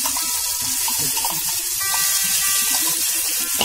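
Ground spice paste hits hot oil in a pan while cooking jackfruit kofta curry, giving a steady, close, dense sizzle that holds evenly for the whole few seconds with no talking.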